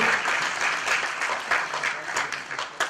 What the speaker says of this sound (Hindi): एक बार पुनः तालियां।